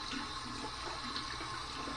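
Running tap water pours steadily while a razor is rinsed during a wet shave, a constant hissing splash heard close and alone.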